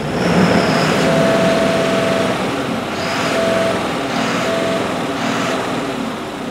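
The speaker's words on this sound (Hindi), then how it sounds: "मैं आपको साउंड टेस्ट करवाता हूँ कैसी साउंड है इस इंजन की" A loud, steady diesel engine of an Ashok Leyland 4825 sixteen-wheeler truck running close by, its droning rumble rising and falling slightly with faint whining tones on top.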